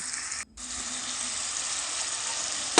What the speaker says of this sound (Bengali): এবার আমি এতে একটু অল্প জল দেবো।